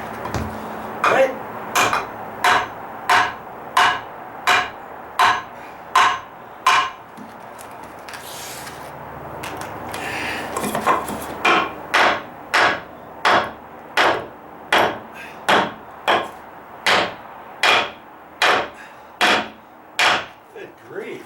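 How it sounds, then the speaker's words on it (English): Steady hammer blows during a deck repair where concrete pavers are being installed over dry-rotted wood, roughly two dozen loud, evenly spaced strikes in a rhythmic series with a brief pause in the middle and faint scraping between hits. "if it doesn't fit, get a bigger hammer"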